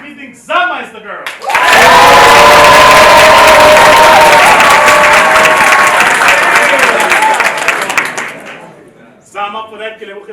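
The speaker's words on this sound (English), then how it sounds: "A round of applause if you think Zama is the girl." After brief talk, a business-pitch audience erupts into loud, enthusiastic applause and cheering that fills about seven seconds, then fades as someone begins speaking again.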